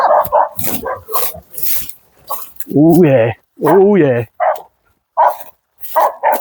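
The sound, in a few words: hunting dogs barking and whimpering at a pig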